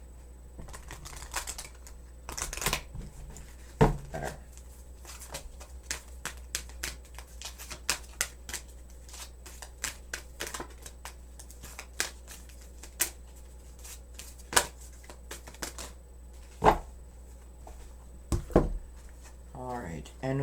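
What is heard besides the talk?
tarot cards being shuffled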